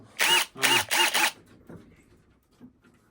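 Four short bursts of a DeWalt cordless drill driver whirring up close, then a few soft clicks and handling noises.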